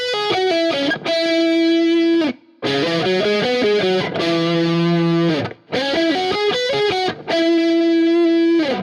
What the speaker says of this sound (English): On my solo guitar, I use Dunacomp from Positive Grid again, then Tube Screamer from UAD, and Marshall Plexi from UAD as well.